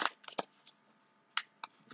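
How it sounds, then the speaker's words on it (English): Quick riffle-shuffling of a tarot deck, a few crisp bursts of flapping cards separated by short pauses, close by with no talking. "Shuffle these real quick"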